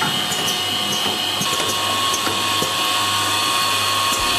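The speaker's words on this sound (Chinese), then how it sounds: "开启水泵调节水量大小，开始工作研磨" An automatic saw blade sharpening machine grinds steadily with its grinding wheel and water pump running, a continuous whirring, hissing mechanical drone with faint ticks, close and unbroken, with no talk.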